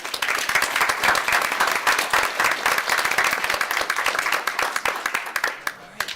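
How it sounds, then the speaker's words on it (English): Audience at a Cuyahoga Falls City Schools board of education meeting applauding, steady dense clapping from a room of people that continues throughout before tapering to a few last claps. "a round of applause for all of you"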